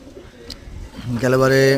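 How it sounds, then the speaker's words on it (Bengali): Pigeons kept at a home loft coo close by, a low rolling call that swells louder toward the end, with faint voices in the background. "খুবই ভালো ভালো পায়রা আছে।"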